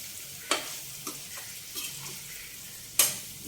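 Chicken pieces frying in a pan for gongura chicken curry, with a few distinct stirring scrapes and sizzle bursts over a low steady crackle, heard close and alone.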